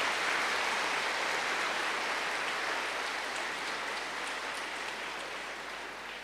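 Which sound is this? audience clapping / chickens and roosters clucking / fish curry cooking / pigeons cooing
audience clapping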